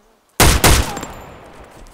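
Gunfire from a new weapon in the survival game DayZ Breaking Point: two loud, close shots in quick succession, followed by a reverberant tail that slowly fades.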